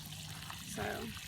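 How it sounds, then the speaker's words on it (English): Water pouring from a watering can onto freshly transplanted garden plants, a soft steady trickle and splash that swells slightly toward the end, faint and close. "I can water it with my watering can."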